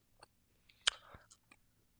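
A close, crisp bite into a flaky croissant: one sharp crackling crunch, then a few softer crumbly crunches and chewing in an otherwise quiet room.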